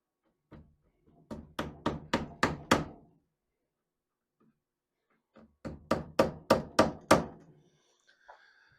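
A hammer drives nails into a wooden canoe inwale against a clinching iron. Two sets of about six sharp, close knocks come in quick succession, the blows getting louder, with a quiet gap between the sets.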